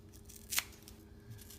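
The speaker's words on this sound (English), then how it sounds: "I slide a pair of scissors" A pair of scissors snips once, a single short, sharp cut during turmeric tea preparation, heard alone against quiet room tone.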